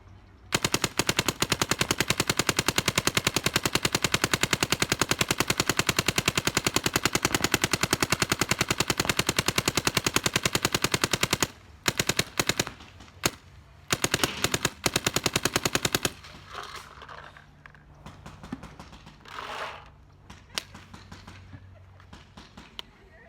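Rapid, loud bursts of shots from a Dye DSR paintball marker run steadily for about eleven seconds, then break into scattered shorter volleys before fading into quieter background.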